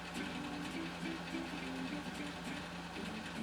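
A restored 1953 Singer 15-91 sewing machine stitching, a steady, quiet mechanical hum with a fast rhythmic whir, running close by without pause.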